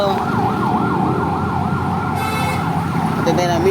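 An ambulance siren wails loudly and close by near a school, its rapid rising-and-falling yelp repeating continuously over traffic noise, with faint background voices.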